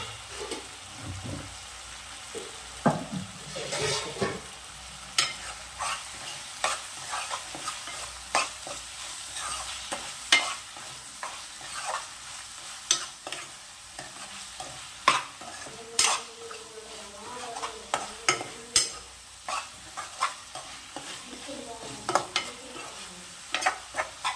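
Spiced food frying in a pan while being stirred, a steady sizzle broken by frequent clinks and scrapes of a utensil against the metal, irregular and close, with no one speaking.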